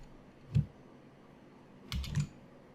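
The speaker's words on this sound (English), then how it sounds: "Control I on your keyboard." Keys on a computer keyboard are pressed for a Control I shortcut: one soft click, then a quick pair of clicks a moment later, close and alone in a quiet room.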